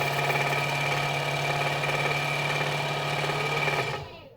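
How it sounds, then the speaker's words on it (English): A sewing machine hums steadily up close, stitching the last side seam of a DIY tote bag. The even, continuous whir runs alone, then stops abruptly near the end. "I was just sewing up that last side after having to rethread my bobbin"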